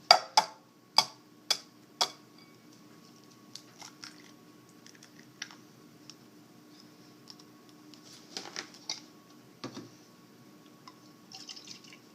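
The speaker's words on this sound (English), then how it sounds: "it says to add 1 egg and 2 cups of milk and whisk them together. So that's what I'm going to be doing right now." An egg and milk are whisked together in a bowl, starting with a few sharp, evenly spaced clinks and followed by quieter, scattered taps and scrapes.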